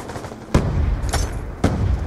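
Frag grenade blasts and gunfire in Call of Duty Black Ops 2 multiplayer, sharp loud booms at irregular intervals over a rumbling battlefield background.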